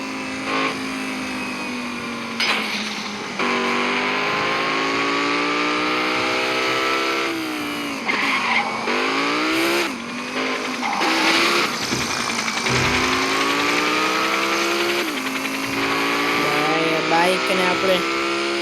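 Motorbike engine in the Gangstar Vegas video game, revving with rising and falling pitch sweeps and repeated throttle changes, steady and loud with a voice talking over it.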